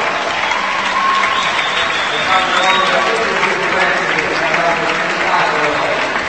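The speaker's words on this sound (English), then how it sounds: "the crowd cheering" A crowd at the Milano Climbing Expo 2019 lead climbing competition cheers and applauds loudly and continuously, a dense wash of clapping and shouts, with a voice speaking over the din.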